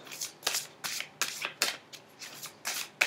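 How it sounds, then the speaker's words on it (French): Oracle cards shuffled by hand in a quiet room, a run of about eight crisp riffling bursts at a steady rhythm, close and fairly soft, with no talking. "on va tirer une carte avec l'oracle"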